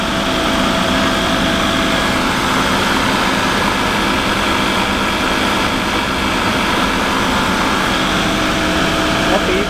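A Toshiba BTD13FR22 CNC horizontal boring mill spindle runs at 2500 RPM, giving a steady, dense machine hum with a whine on top that holds level and loud for the whole stretch.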